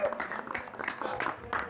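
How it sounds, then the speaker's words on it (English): Applause from an audience at a Nepali community gathering, a short burst of scattered, uneven clapping with crowd murmur mixed in. "Please give him a big round of applause."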